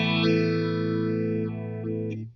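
A sustained electric guitar chord passes through a Positive Grid Modulation Twin set to a triangle wave LFO, giving an even, linear rise and fall in its shimmering modulation before the note cuts off.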